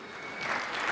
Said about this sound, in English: Please give him a big round of applause, ladies and gentlemen.